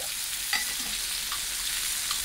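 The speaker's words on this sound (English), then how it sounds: "Yes, I'm adding some clarified butter in there" Ribeye steak with garlic and rosemary sizzles in clarified butter in a hot pan: a close, steady crackling fry with a few sharp pops, no voices.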